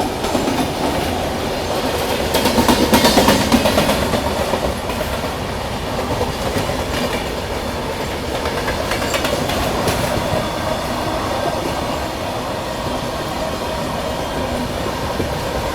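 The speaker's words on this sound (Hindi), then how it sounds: "तो ये मालगाड़ी अभी स्पीड अप हो गई अच्छी वाली, तो ये एकदम तेज भाग रही है।" An Indian freight train speeds alongside a moving passenger train near Palwal, a continuous loud rumble of rolling wagons with clickety-clack rhythm and brief squealing wheel noise, swelling early then steady.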